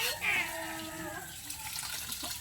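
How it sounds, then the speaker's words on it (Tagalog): Strong tap water runs hard and steady while fresh fish are cleaned, a close continuous splashing gush with a person's voice briefly over it. "Ang lakas pala ng tubig din."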